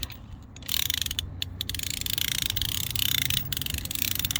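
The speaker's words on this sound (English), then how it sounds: "I can turn it around like that, or I can use it like a ratchet. And as you can see, it's starting to tighten up." A hand ratchet on a winch cranks to tighten the line and shift a rental Jeep, giving a rapid, continuous clicking of pawl and gears, loud and close, with brief pauses at the start.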